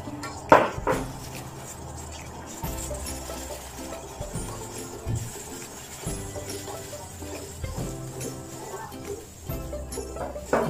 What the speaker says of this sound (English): You just have to continue stirring